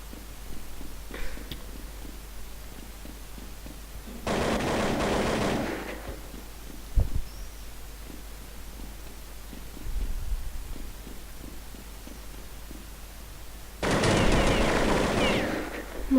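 Bursts of automatic gunfire in a video game, two long volleys of rapid shots a few seconds apart over a low steady background hum, with a few isolated single pops in between.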